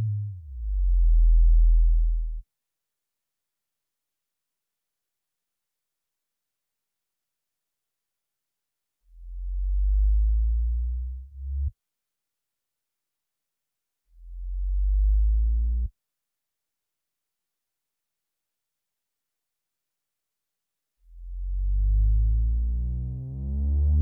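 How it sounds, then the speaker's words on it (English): Pure low synthesizer sine-wave oscillator tones sound in separate bursts, the last one sweeping upward as it rises in pitch, with silence between them. "Now oscillator 2 is going to be simply a sine wave"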